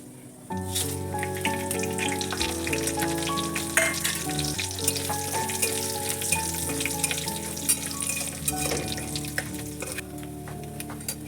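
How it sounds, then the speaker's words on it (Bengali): Cumin seeds, dried red chillies and bay leaves crackle and sizzle steadily in hot oil for several seconds, with faint clinks of a utensil and no talking. "এবারে এই তেলে আমি সাদা জিরে, শুকনো লঙ্কা আর তেজপাতা ফোড়ন দিচ্ছি"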